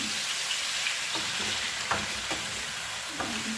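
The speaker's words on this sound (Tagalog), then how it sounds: "Yan, gisa talaga siya." Chicken feet sauté in a pan with soy sauce for adobo, giving a steady close sizzle and frying crackle with a few brief scraping stirs.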